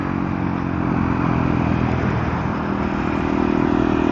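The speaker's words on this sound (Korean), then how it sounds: "이렇게 손쉽게 논클러치 기어 변속을 할 수가 있습니다." A KTM Duke 390 motorcycle riding with clutchless upshifts, its engine droning steadily and continuously at close range with no talk.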